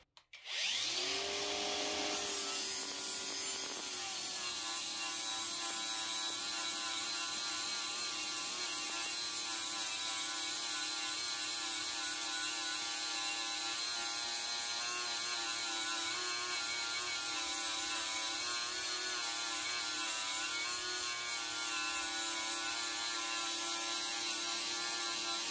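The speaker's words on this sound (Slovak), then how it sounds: "No a teraz si porovnáme brúsenie na Parkside Performance" A Parkside Performance cordless angle grinder runs up with a sharp burst, then grinds continuously at a high steady pitch, loud and close, with no talk.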